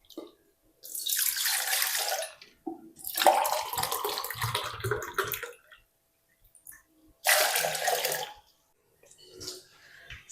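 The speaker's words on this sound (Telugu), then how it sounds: "ఫస్ట్ ఈ గిన్నెలో మనం టూ గ్లాసెస్ ఆఫ్ వాటర్ తీసుకుందాము" Two glasses of water are poured into a cooking pot in three separate splashing bursts, each a few seconds long, close and clear, with short quiet gaps between them.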